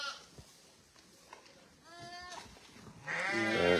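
A ewe in lambing, scanned for twins and on her fifth crop of lambs, gives a couple of harmonic bleats, the second louder and longer, close by amid faint barn noise.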